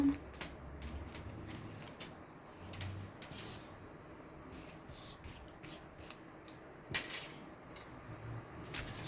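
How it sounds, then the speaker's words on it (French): Oracle cards being shuffled and drawn by hand, with soft riffling and sliding card sounds in quiet bursts and occasional light taps, close and faint, with a voice speaking intermittently. "Je vais aussi prendre 4 cartes."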